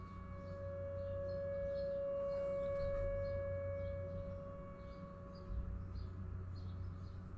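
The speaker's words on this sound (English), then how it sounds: "they test this tornado sirens on the first Wednesday of every month" A tornado siren under a monthly test sounds as a steady, sustained wail that holds loud across the whole stretch, with faint birdsong chirping in the background.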